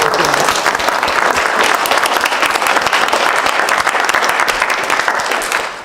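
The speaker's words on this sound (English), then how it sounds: "Let's give another round of applause to Liz and Paula." An audience at an evening research talk on winter recreation breaks into a sustained round of applause, dense and steady clapping filling the room for several seconds before tapering slightly at the end.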